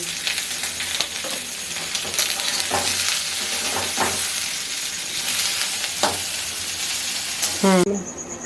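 Chicken patiala ingredients fry gently with salt in a pan, a continuous close sizzle broken by stirring scrapes and spoon taps, with a brief clatter near the end.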